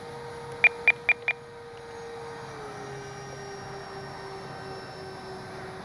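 An RC Avios Bush Mule airplane flies with its landing flaps down, a faint steady motor whine that drops in pitch partway through, preceded by four quick sharp electronic beeps.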